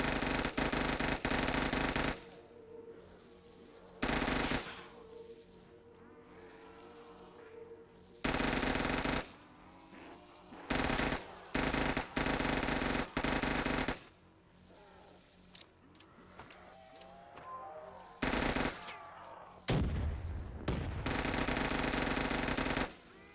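Bursts of automatic gunfire on a custom video game map, loud repeated volleys of rapid shots separated by quieter stretches of game ambience.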